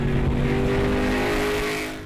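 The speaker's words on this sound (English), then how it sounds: "we're going to take our car back to the shop and do another 0 to 60 pull" A 2005-2009 Mustang GT fitted with an acceleration pack makes a 0 to 60 pull. The engine roars loud and close with a steady, strained tone, then fades slightly at the very end. No voices are heard.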